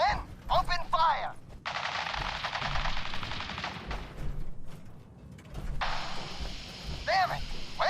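Gunfire in the video game Fallout 4: bursts of rapid automatic fire crackle in long sustained volleys, broken by short gaps and mixed with a few sharp ringing shots.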